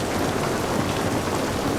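Steady rainfall in The Last of Us Part 1 on PS5, a continuous dense hiss of drops spattering on surfaces with no pauses, fairly loud and close, with no voices over it.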